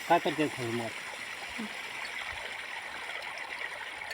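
Irrigation water flows steadily through a farm field, a constant near rushing and trickling wash that continues alone after a woman's brief speech at the start.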